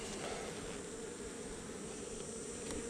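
Honey bees buzz around a hive, a faint, steady, continuous hum with no voices.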